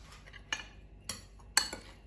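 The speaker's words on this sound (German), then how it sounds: "Sie rührt das jetzt alles schön zusammen." A utensil stirs a fish sauce mixture for chicken wings in a bowl, giving three sharp separate clinks against the dish over a quiet background.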